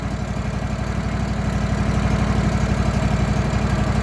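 A small gasoline engine on a Wood-Mizer sawmill idles steadily at close range, a continuous low, even throb with a fine rapid pulse and no other sounds.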